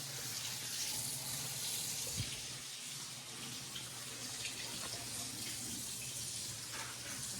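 Water runs steadily from a tap into a sink, a continuous close splashing hiss with a faint clunk partway through.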